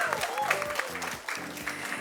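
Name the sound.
audience applause at conference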